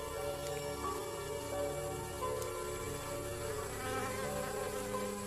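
Buzzing insects around a resin trap, most likely bees, make a steady, dense drone that holds without a break, close and moderately loud, with no voices.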